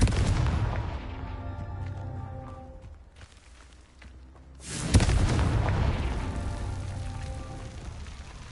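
Confringo spell explosion in Hogwarts Legacy, a sudden loud boom midway with a crackling, rumbling tail, set against a steady noisy rushing background that dips just before the blast.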